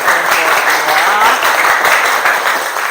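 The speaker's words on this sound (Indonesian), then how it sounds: "tepuk tangan kepada teman-teman semua." Classroom applause from a group of students, a steady dense patter of clapping throughout at moderate loudness, with no clear talking over it.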